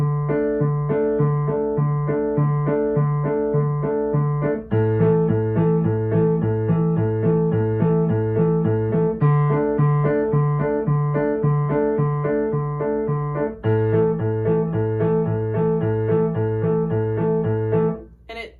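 A piano plays the end riff of a song, rocking back and forth between two notes in an even, repeating rhythm, clear and close with no voices.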